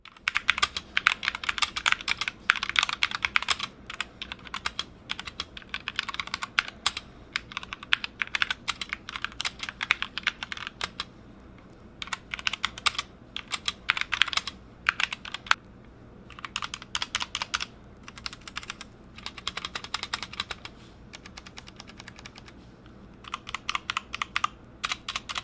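Clicky keystrokes from a custom mechanical keyboard ring out in steady bursts of fast typing, with short pauses between runs, close and fairly loud, and no voice over them.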